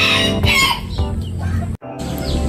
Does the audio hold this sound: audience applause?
no